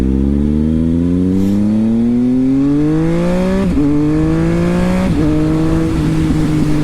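A Triumph Speed Triple S motorcycle fitted with an SC Project exhaust accelerates hard in third gear, its engine note rising steadily and loud throughout, with brief dips at two gear changes before climbing again.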